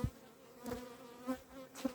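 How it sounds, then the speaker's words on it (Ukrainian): Honeybees buzzing around a hive on a cold day, a steady drone with a few louder passes of single bees flying close to the listener. "трошки бджоли агресивні, бо це за цього холоду"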